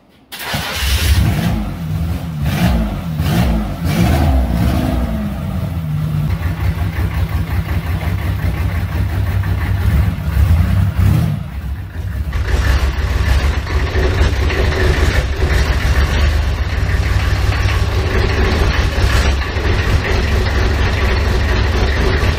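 A diesel engine swapped into a cheap C3 Corvette cranks with rapid rhythmic churning, catches, and settles into a loud, rough, steady idle close to the microphone.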